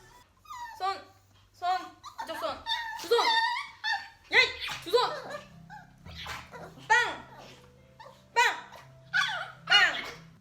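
Pet puppies whimper and yip in short high bursts while waiting for treats, with a few sharper barks among them and a voice talking to them close by.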